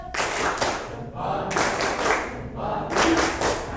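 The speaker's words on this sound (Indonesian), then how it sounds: "Tepuk salut." A class of students does a rhythmic 'tepuk salut' salute clap in a classroom, with three close, lively bursts of group clapping separated by short pauses.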